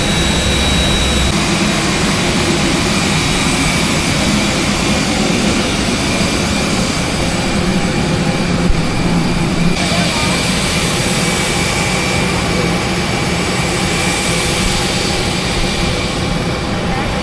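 Cabin or ramp engine roar from a Batik Air Airbus A320 jet at Soekarno-Hatta Airport in Jakarta, Terminal 2: a steady, loud, broadband rumble and hiss that holds unchanged throughout.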